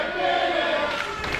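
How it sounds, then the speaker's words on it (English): Wrestling crowd at a steel cage championship main event chanting together, a loud sustained arena roar of many voices in unison, brief and close. "Now the crowd chanting, "You can't win this.""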